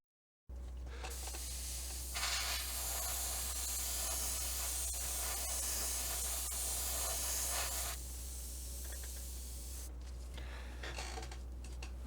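Light coat of spray paint going onto a plastic model, a quiet steady hiss with a louder stretch of spraying in the middle, over a low background hum.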